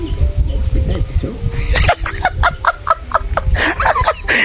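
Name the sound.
chickens clucking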